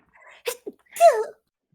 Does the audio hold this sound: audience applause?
no